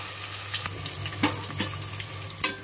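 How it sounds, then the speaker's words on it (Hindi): Onion and ginger, with cashews already added, fry in a pan for matar pulao, giving a faint, steady sizzle broken by a few soft clicks and scrapes of stirring. "अब हम प्याज और अदरक को भूनेंगे ब्राउन होने तक।"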